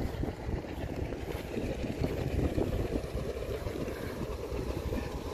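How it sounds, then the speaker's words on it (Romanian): A steady motorboat engine drones across the whole stretch on a canal in the Danube Delta, a low continuous rumble over water with no talking. "va trece o barcă, probabil îi va speria un pic"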